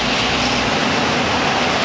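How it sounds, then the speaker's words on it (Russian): A passing train of narrow carriages in Mexico, a steady loud rumble and roar of wheels on track close by, continuous and without pauses. "поезд. Узкие вагоны."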